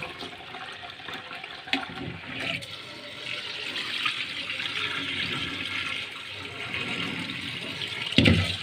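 Running tap water splashing steadily as raw food is washed in a sink, a continuous close rush with a few louder splashes and clunks, no talk.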